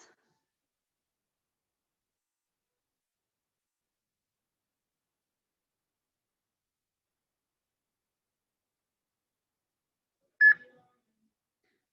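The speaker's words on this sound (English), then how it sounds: "Just want to make sure you guys had the beep" A single short electronic workout timer beep sounds once near the end, clear against an otherwise silent background.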